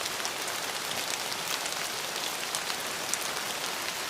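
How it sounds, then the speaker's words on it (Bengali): Heavy rain pours down steadily outdoors, a dense unbroken hiss of drops striking surfaces nearby with no pauses and no voices. "জল পড়ছে তাগড়া।"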